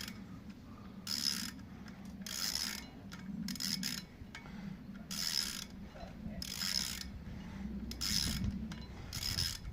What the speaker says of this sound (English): Tightening up a screw.